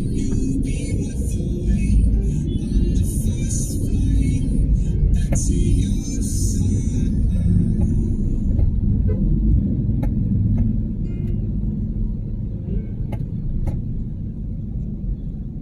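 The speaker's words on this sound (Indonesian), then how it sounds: "Setengah 11 malam masih macet," Night traffic jam on a road in Makassar: a dense, steady rumble of car engines and tyres that carries on without a break, with faint clicks and knocks over it.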